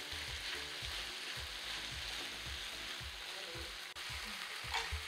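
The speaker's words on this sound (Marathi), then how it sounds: "ही आपली मेथी ग्रेव्ही सोबत फ्राय होईल" Chopped fenugreek leaves frying in a spiced gravy with peas in a kadhai, a steady close sizzle with rhythmic stirring scrapes and no voices.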